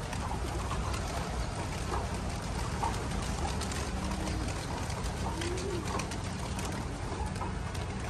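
Pigeons coo softly outdoors with a steady background hum. The low, repeated coos are faint and somewhat distant, with no talking.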